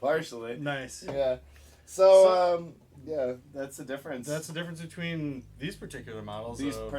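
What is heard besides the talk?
None of the usual background noises is heard.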